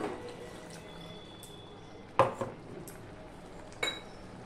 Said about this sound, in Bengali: মিক্সি ধুয়ে একটু জল দিয়ে দিলাম।